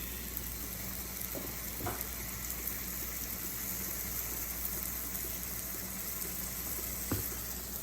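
Slices of homemade smoked bacon, some thick and some thin, sizzle in a pan as a continuous, moderately faint crackling hiss, with a few soft clicks and no talking.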